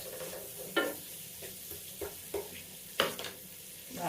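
Onions sauté in a pan until wilted, with a quiet sizzle broken by several distinct spatula scrapes and taps at irregular intervals.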